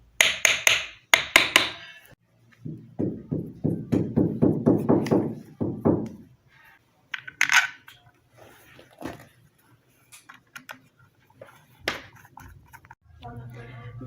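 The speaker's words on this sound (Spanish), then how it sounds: "Una tablita y el martillo para que entre bien el ventilador" A hammer drives a pump's fan onto its shaft through a small wooden board during reassembly of a burnt-out water pump after rewinding, giving a few sharp knocks first, then a rapid run of closer taps, then scattered strikes between quiet handling noises.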